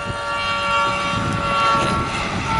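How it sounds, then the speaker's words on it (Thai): A train rumbles past nearby on the Pa Sak Dam railway bridge in Thailand with a steady, broad roar and a faint high metallic whine running through it, no voices. "รถไฟมาครับนี่เป็นอีกขบวนหนึ่ง"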